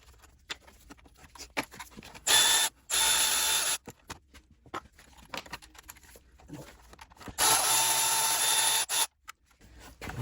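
A hand-held power tool backs out a 13mm bolt from the engine pulley of a 2005 BMW 325xi, heard as two short, loud whirring bursts separated by quiet fiddling, clicks and rattles close by.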